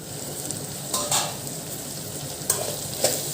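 Vegetables sautéing in a pan, a soft continuous sizzle with occasional brief stirring scrapes, close and moderately loud with no talking.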